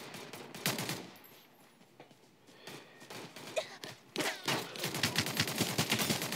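Rapid bursts of automatic gunfire in the battle royale game Omega Legends, with scattered shots early and dense, repeated volleys toward the end, punctuated by sharper single cracks.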